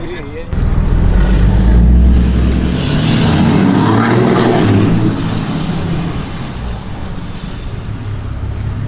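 Pickup truck engine revved hard with the gas pedal, a loud, close roar that swells in the first seconds and then holds a throaty, steady drone, with a voice briefly heard.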